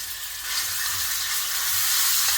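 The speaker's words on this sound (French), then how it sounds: "Et On fait revenir dans l'huile, il faut de l'huile chaude." Pounded garlic, chili and salt fry in very hot oil in Réunion-style cooking, giving a soft, continuous hiss and crackle that grows slightly louder over a couple of seconds.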